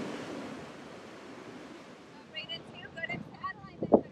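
Sea surf washing onto a beach shore, a steady broadband hiss and wash with some wind, while children chatter and call out close by in the second half.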